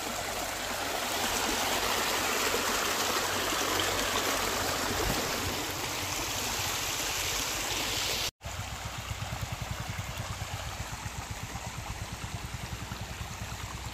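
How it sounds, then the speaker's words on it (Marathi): Overflow water from a dam in Thanepada, Nandurbar rushes downstream as a steady stream. The roar is broadband and continuous, breaks off for a moment, then comes back with a slightly different, more gurgling texture. "हे पाणी खाली जातं त्या साईडला,"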